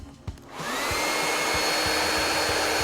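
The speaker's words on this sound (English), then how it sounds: "Now we're going to put it in front of the blow dryer" A blow dryer roars steadily and close after switching on, running loud and continuous while warm air is aimed at a piece of nitinol wire to heat it.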